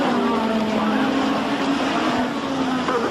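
Nigel Mansell's Formula 1 car roars past at close range during qualifying at Brands Hatch in 1986, a loud, dense engine blare with a steady high pitch running through the whole clip.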